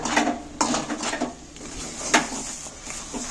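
A spoon scrapes and knocks around a kadai of palm fruit pulp boiling on a gas flame, with irregular close clinks and scraping strokes at a moderate level and no talking.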